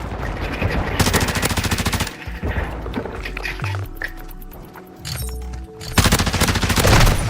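Automatic weapon fire in Call of Duty Modern Warfare comes in loud rapid bursts, stops for a few seconds of quieter game sounds, then returns in another sustained burst, with no talk.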